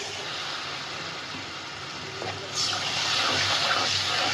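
Water poured into a pan of fried shrimp with ginger and garlic, a soft hiss that swells into a louder, steady gushing splash partway through.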